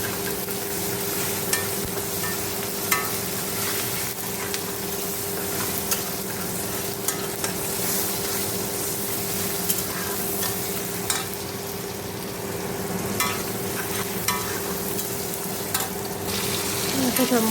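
Cumin and dried chili crackle in a pan with onion and tomato, a steady close sizzle broken by scattered clicks and scrapes of stirring over a faint constant hum.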